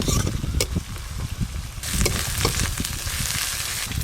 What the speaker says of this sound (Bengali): আদা রসুন পেঁয়াজ ভালো করে ভাজা ভাজা হয়ে গেছে